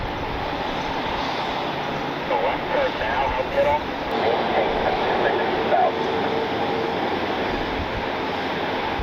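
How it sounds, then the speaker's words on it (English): A Delta Connection CRJ jet touches down on runway 6 right, its engine noise a broad, moderately loud rumble with brief swells, and a voice talks over it. "Delta connection, CRJ touching down here on 6 right"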